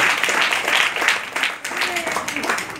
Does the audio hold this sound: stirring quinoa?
no